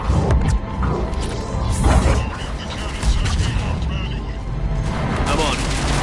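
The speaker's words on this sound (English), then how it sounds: "Cannons initializing." Cannons power up and fire in Mass Effect 3 on PS5, heard as loud, dense sci-fi combat with repeated heavy booms and thuds over a constant rumbling battle bed.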